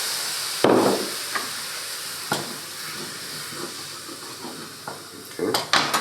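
Reserved spaghetti cooking water is poured into a hot carbonara pan, giving a sudden loud sizzle and hiss, followed by softer clinks and stirring scrapes, with another burst of sizzling near the end.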